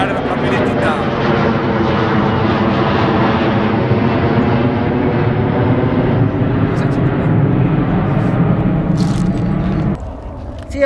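A steady, loud airplane engine drone fills the scene at a comic festival, continuous and broadband before cutting down sharply near the end, with faint voices at the edges.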